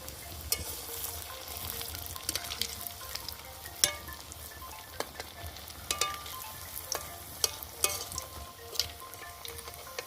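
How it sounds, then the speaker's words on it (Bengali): Rohu fish pakoras deep frying in hot oil produce a dense, continuous sizzle scattered with sharp crackles and pops, heard up close with no voices. "এইভাবে সব পকোড়াগুলো আমি ভেজে নেব"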